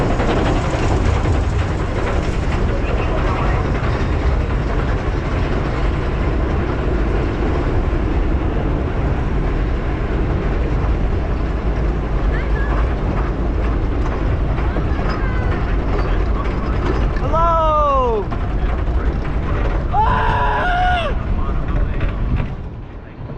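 Front-seat ride on the Scorpion roller coaster at Busch Gardens Tampa: a loud, constant rumble of the train and rushing wind, with brief rising yells from riders near the end.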